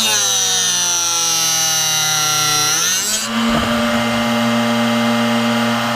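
A Drill Doctor sharpener grinds a drill bit, a loud whining motor tone that shifts abruptly partway through as the bit is plunged and rotated, with dense harmonic buzz and no talking.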